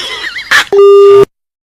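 A brief voice fragment, then a loud steady electronic tone holds for about half a second before cutting to silence, a phone call disconnecting on a radio prank call show.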